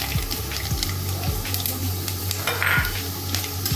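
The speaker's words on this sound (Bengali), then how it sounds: "এই মেথিটা আমি তেলের মধ্যে দিয়ে দিই।" Fenugreek seeds sizzle steadily in about three tablespoons of hot white oil, a close, continuous frying hiss with a few light clinks of a utensil against the pan.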